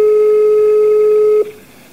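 A steady single telephone tone sounds loud and unbroken for about a second and a half, then cuts off abruptly, leaving only faint background hiss, as on an unanswered call.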